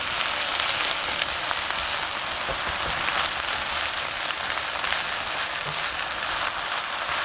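Okra frying in a pan over medium-high to high heat, a dense continuous sizzle like steady rain, loud and close with no voices.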